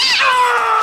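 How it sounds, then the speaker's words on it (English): A single loud, close cat meow from a Japanese horror film scene, drawn out and falling in pitch for nearly a second, heard alone. "It was just a cat."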